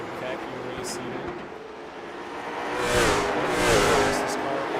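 Sim racing cars circling Hickory Motor Speedway, a continuous engine drone that swells as cars pass, lying under a commentator's steady voice.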